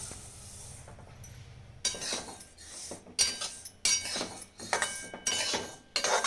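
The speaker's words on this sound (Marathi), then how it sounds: "आता तीळ भाजून घेते" Sesame seeds dry-roasting in a pan for traditional jaggery peanut ladoo, heard as repeated bursts of light crackling and rattling scrapes, close and moderately loud, with quiet gaps between stirs.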